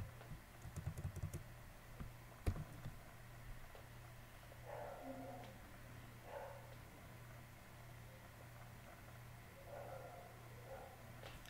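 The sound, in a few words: typing on a computer keyboard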